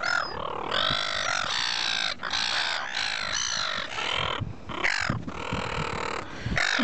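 Seagulls being fed by hand at Fremantle squawk and cry in a dense, overlapping chorus, loud and close, with harsh calls following one another almost without pause.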